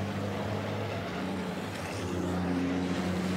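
Racing trucks rush past at speed on the Poznań circuit, a loud sustained engine roar with a droning pitch that shifts and rises slightly as they go by.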